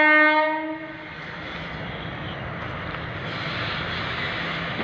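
A train horn blares loudly at a closed railway gate, its sustained harmonic blast fading after about a second as the train rolls past with a steady, broad rumble and rattle of wagons that continues to the end.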